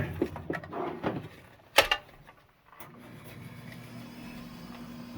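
A Breckwell BigE pellet stove exhaust motor whirs to life after a few clicks and a sharp clatter, then settles into a steady low hum that continues to the end.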